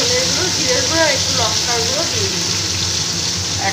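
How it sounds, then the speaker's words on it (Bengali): Potatoes fry in a pan with green chilli paste, salt and turmeric, giving a steady, close sizzle that continues under a person speaking. "আমি আলুগুলোকে ভেজে নেব"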